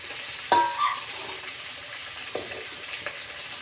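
Sambar ingredients are stirred in a pot, with a few distinct clinks and scrapes of a spoon against the metal over a faint, steady sizzle.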